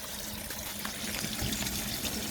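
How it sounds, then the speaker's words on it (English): Water runs steadily from a garden hose that has popped off its fitting outdoors near a drain and vent, a continuous close splashing trickle with no speech. "this is just leaking from my hose"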